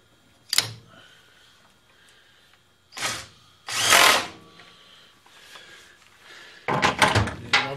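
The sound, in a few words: electric drill running with drill chuck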